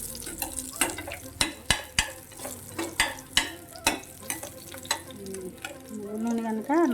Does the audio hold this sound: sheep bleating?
no